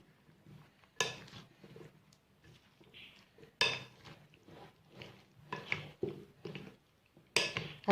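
A spoon mixes chaat masala and curd into chana chaat in a bowl, giving irregular clinks and scrapes against the dish with soft wet stirring between the sharper knocks, close and fairly quiet.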